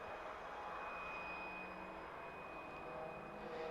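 A Kalitta Boeing 747 Jumbo jet's engines run at an airport, giving a steady, piercing high whistle over a low, continuous engine roar, with no talking.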